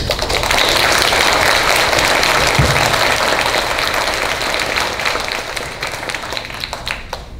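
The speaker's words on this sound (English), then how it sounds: "all candidates deserve a round of applause" Loud, dense applause from the audience at a Ward 5 municipal election debate in Burlington, a steady wash of many hands clapping that holds for several seconds and then slowly tapers.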